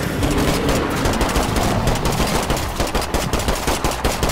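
Rapid automatic gunfire from a State of Decay 2 zombie fight, a dense continuous burst that breaks into distinct rhythmic shots toward the end, loud and close.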